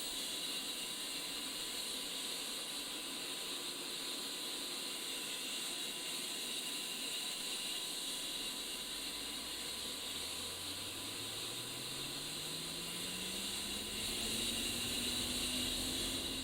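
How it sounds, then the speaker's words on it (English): An A-10C jet engine in DCS World spools up from a start, a steady hiss and whine with a low tone that climbs gradually in pitch toward the end, continuous and moderately quiet with no talk. "This will automatically start fuel flow, use bleed air from the APU to turn the fans, and then ignite the fuel in the combustion chamber."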